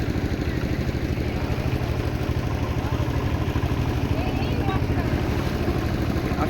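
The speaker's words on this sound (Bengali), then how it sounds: "ছোট নৌকা করে এখন আমরা যাচ্ছি" An engine-fitted small boat on the wetland waters of Tanguar Haor gives off a steady, rapid, low throbbing motor chug close by. Voices sound faintly over it.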